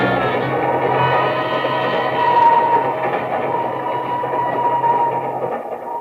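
Train running sound effect from an old-time radio drama: a steady rumbling rattle of rolling rail cars, fairly close and continuous for several seconds, fading slightly at the end, with no voices.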